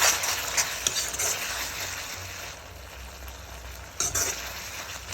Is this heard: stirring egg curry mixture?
yes